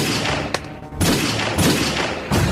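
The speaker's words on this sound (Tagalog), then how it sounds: "Anya dagit siya putok." Several loud, close gunshots crack in quick succession within a dramatic scene, each a sharp blast with a short ringing tail.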